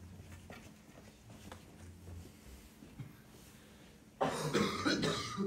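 During a Korean Sunday church service, a nearby person gives a loud burst of coughing and throat clearing near the end, after several seconds of quiet room tone.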